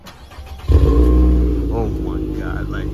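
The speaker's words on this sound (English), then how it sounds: "I did get a muffler delete. I can definitely let you hear the sound of it." A 2015 Nissan Altima with a muffler delete starts up with a sudden loud, raspy exhaust bark, then settles into a deep, throaty idle close by, as a person talks over it.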